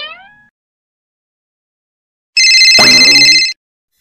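A cartoon telephone rings loudly in one sustained electronic trill lasting about a second, preceded by a brief high chirp and otherwise silence.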